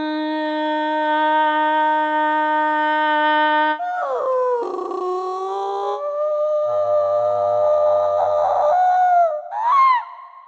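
A human voice imitates bird calls in a demo of the Fluffy Audio Echoes of the Earth vocal sample library: sustained, pure whistling tones give way to sliding, warbling calls and a final rising chirp, alone and clear.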